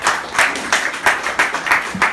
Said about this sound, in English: Round of applause, please, for Altmail.